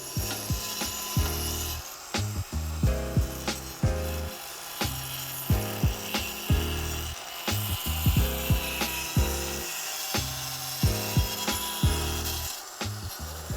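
Hand-sawing through a part of a sliding gate to fit a piece in, a fast steady rhythm of rasping back-and-forth strokes, close and loud, continuing throughout with no voices.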